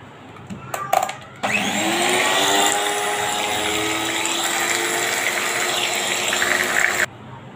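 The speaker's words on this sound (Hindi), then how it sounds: "अब हम अपनी दही भी बीट कर लेंगे।" Yogurt (dahi) for dahi baray is beaten with an electric beater in a kitchen, a loud, steady whirring drone that starts abruptly after a few faint knocks and runs evenly for several seconds before cutting off.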